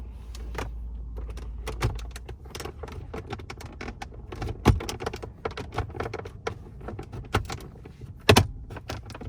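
Plastic trim clips pop and snap as a dash panel is pried loose in a 2010 Acura TSX, a dense run of sharp clicks and cracks with a few louder snaps, close and without talk.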